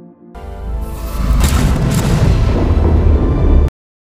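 A loud, deep explosion bursts in and rumbles on for a few seconds before cutting off abruptly.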